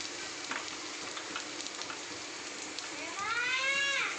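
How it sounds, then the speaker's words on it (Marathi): Grated fresh coconut and onions sauté in a pan with a soft, even frying hiss close by, a few light stirring ticks, and a rising whistling tone swelling near the end. "नारळसुद्धा परतून घ्यायचं आपल्याला."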